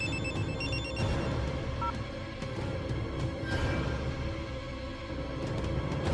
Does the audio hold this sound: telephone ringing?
yes